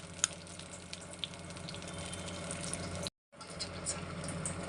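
Water is poured into a pan of drumstick curry, a steady rushing hiss with a faint sizzle underneath and a brief break partway through, no talk.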